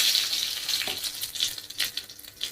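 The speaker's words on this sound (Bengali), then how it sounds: "টমেটো কুচি দিলাম" Chopped tomato hits hot oil left from frying fish, giving a quiet, patchy crackle with scattered spits and pops and no talk.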